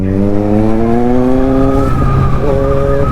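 Kawasaki Z900 motorcycle revving hard during a wheelie, loud rising engine whine that climbs then dips and picks up again, close and alone without talk.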